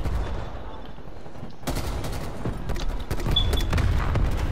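Gunfire in Call of Duty: Black Ops Cold War multiplayer: loud, close bursts of rapid automatic shots and sharp cracks, with a heavier thump midway, continuing through the whole stretch with faint voices underneath.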